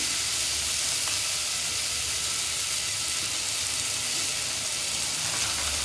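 Tomatoes frying in a pan for soya bean sukka, giving a steady, even sizzle and hiss throughout with no break, fairly close and with no one speaking.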